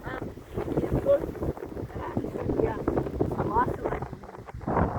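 Strong wind buffets the microphone in a steady rumbling roar while people talk over it close by.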